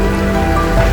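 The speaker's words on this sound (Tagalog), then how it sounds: "Grabe ulan. Lakas eh." Heavy rain pours steadily on surfaces during a typhoon, a dense continuous hiss and patter at constant loudness with no voices.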